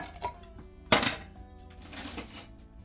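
A big spoon stirs crockpot ingredients including onion, giving one loud scraping clatter against the pot and then quieter shuffling and knocking of the mixture.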